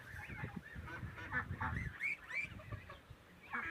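Geese and ducks honk and quack repeatedly in an overlapping, busy chorus, fairly close, with no talking.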